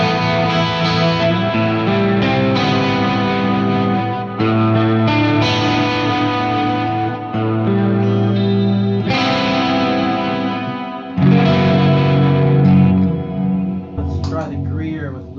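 Electric guitar played through a blend of a Marshall and a Vox AC30 amp, with a loud, driven tone carrying chorus-like shimmer across sustained chords and phrases. Two brief pauses split the playing.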